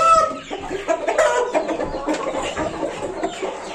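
Several farmyard chickens cluck busily and overlap one another nearby, a steady chatter of short clucks and squawks with no talking.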